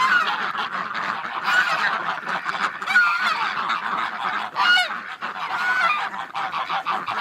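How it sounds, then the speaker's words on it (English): Ducks pouring out of their pen in the morning, a steady crowded din of loud, overlapping nasal quacks and honks near at hand, with no pause in the chatter. "He's all excited letting the ducks out."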